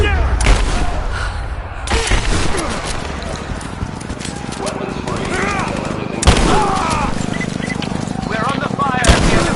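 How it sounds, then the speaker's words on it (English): Firefight in the video game Rise of the Tomb Raider, with sharp gunshot bursts at intervals over a dense, loud game soundscape while characters shout and talk throughout. "We're under fire at the end of the village."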